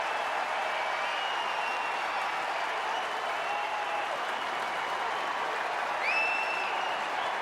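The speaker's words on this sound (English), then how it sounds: "the sound from the crowd here is very pro-India" A cricket crowd at Lord's during the England v India 2021 Test applauds a half-century by Shami, steady dense clapping and cheering filling the ground throughout, with a few whistles rising above the sustained roar.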